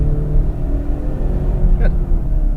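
A car accelerates on a track during a driving session, heard as a loud, steady low engine rumble that swells slightly. A voice talks over it.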